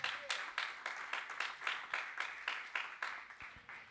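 A church congregation claps hands for the Lord in a steady, even rhythm, about three claps every second, heard fairly faintly in a reverberant room with no voices over it.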